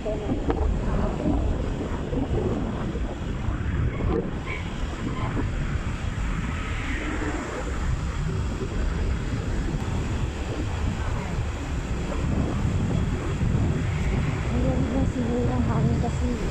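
Steady wind rushes across the microphone throughout a road trip past the Abra River near Bantay, a continuous broadband roar that stays loud for the whole stretch, with a voice speaking over it.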